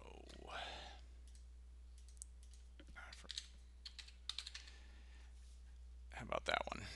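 Clicky typing on a computer keyboard at a desk, irregular bursts of keystrokes at moderate distance over a steady low hum, with short pauses between the bursts and no clear talk.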